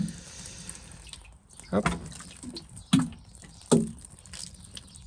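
Seed trays being soaked with water from a watering can before sowing in a Normandy garden, a steady low splashing broken by a few louder sloshing pours, with a brief spoken word.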